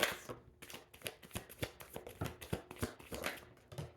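A deck of tarot cards is shuffled and drawn by hand, making rapid papery riffles and flicks in an uneven rhythm of quick bursts. The sound is close and intimate, with no talking.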